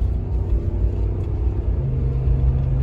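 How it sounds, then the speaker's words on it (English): A deep, steady Corsa exhaust rumble from an idling 2017 Dodge Ram V8 pickup, low and throaty with a slight rise in pitch near the end. "let's let you listen to that Corsa exhaust"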